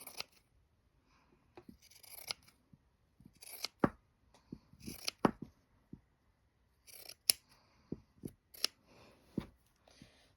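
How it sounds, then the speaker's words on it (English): Sharp scissors snip through quilt padding in a quiet room, a series of short crisp cuts in irregular clusters with pauses between them. "I'll have to trim off some padding over here."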